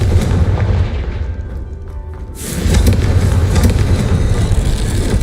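Confringo blasting spells in Hogwarts Legacy set off repeated heavy booming explosions, loud and close. A brief quieter lull comes before a fresh burst of rumbling blasts.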